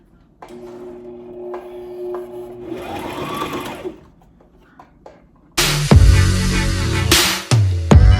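A sewing machine slowly stitches wig hair along a marked line, giving a short, close whir, then a pause and a louder clattering burst near the end, with no voices.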